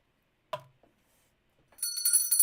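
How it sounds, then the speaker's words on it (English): A bell rings with a bright, sustained metallic tone in the second half, preceded by a single sharp knock and a brief silence; fairly close and clear, with no talking. "Let's ring the bell."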